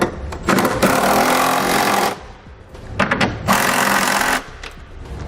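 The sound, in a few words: power tool tightening trailer hitch hardware on Subaru Outback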